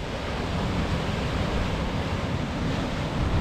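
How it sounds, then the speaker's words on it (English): Large waves crash and splash against the Scottish coast in a dense, loud, continuous roar of surf and spray, mixed with gusty wind noise on the microphone and no voices. "Wow, if some of that stuff splashes me, look at the size of this wave here."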